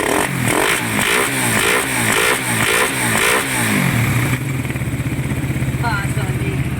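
A motorcycle engine revs in repeated rising bursts, then settles into a steady idle, loud and close, with someone talking over it.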